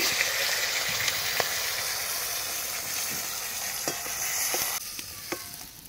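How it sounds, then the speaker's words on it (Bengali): Pangas fish frying in oil in a pan, a steady close hiss and crackle with scattered small pops and light utensil touches throughout. "বাকি মাছটা আমি সেমভাবেই ভেজে নেব"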